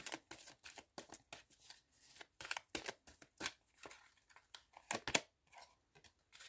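Oracle cards shuffled by hand, close up: quick irregular bursts of riffling, slapping card noise that repeat steadily for several seconds, with brief gaps between handfuls.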